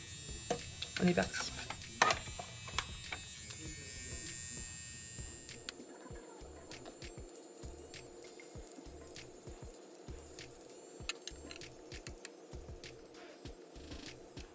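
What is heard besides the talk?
Pen Epil electric epilator running on moustache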